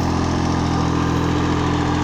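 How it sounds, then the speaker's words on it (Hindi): A tractor-drawn seed drill works a sugarcane field, its engine giving a loud, steady droning hum that runs unbroken throughout without voices. "पीछे से शीटड्रिल चला देते हैं।"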